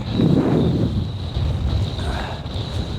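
Wind buffeting the microphone on a Scottish hillside, loud rumbling gusts that surge at the start and then hold as a steady roar with no talk.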